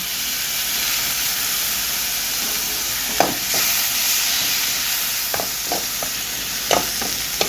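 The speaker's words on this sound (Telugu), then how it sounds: "ఇందులోనే కొంచెం టమాటో ప్యూరీ వేసుకుందాము" A masala curry of eggs and urad dal vadiyalu sizzles steadily in hot oil with tomato puree added, with a constant close hiss and a few sharp spoon scrapes and clicks as it is stirred.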